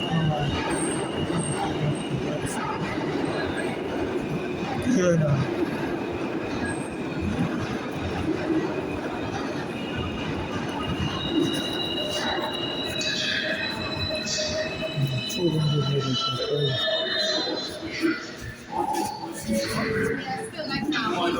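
A New York City subway train rumbling along the rails with high metallic wheel squeals and clatter, plus people talking nearby over the din.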